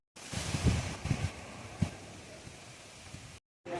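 Wind blowing outdoors in Zemun, Belgrade: broadband gusty rushing across the microphone with a few low buffeting thumps, steady and fairly close, cutting out briefly near the end.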